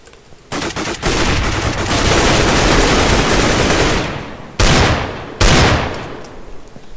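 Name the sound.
AK rifle gunshots in the video game Minecraft Minestrike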